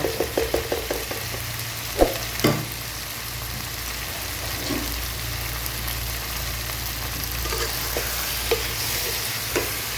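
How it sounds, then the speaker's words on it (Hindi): Onions and vegetable masala for aloo gobi being stir-fried in a pan, with a continuous sizzle and repeated spoon scrapes and knocks, including a quick run of taps at the start. "बस अच्छे से 2 से 3 मिनट मैं इसकी भुनाई करूँगी।"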